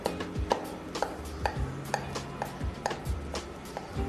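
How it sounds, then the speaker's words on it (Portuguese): A knife slices through a tray of unbaked Brazilian oven kibbeh stuffed with cheese and requeijão, cutting diagonal lines; a steady series of sharp, close taps and scrapes recurs roughly every half second, with no talking. "Agora vamos fazer corte e deixar cortado já o nosso quibe antes de levar ao forno"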